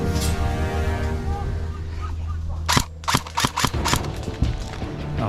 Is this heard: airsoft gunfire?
yes